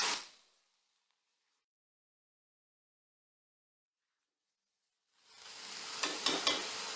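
Chettinad chicken masala is stirred in a pan: a brief sizzle fades into silence, then a louder steady sizzle returns with a few sharp spoon scrapes and knocks near the end.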